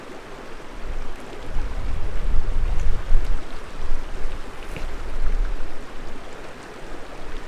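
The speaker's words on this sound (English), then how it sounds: "A little water flow coming in." Steady rushing water of a small mountain stream flowing nearby, with low rumbling and a little wind noise; no talking.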